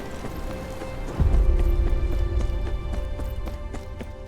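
Horses' hooves in the Game of Thrones: Kingsroad video game, a rhythmic clip-clop of hooves that starts with a thump and continues at a trot over a low rumble, with ambient game music underneath.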